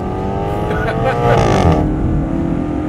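A 2024 Maserati GranTurismo with a deep, guttural exhaust note that rises in pitch under acceleration and then drops at an upshift, loud and close throughout.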